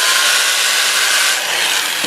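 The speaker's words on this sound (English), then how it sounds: "I've got the lathe turning about 350 RPM, and I'll just sand it like this" Abrasive paper rubbing steadily against an apple wood bowl turning on a lathe at about 350 RPM, a continuous loud, broadband hiss with no breaks and no voices.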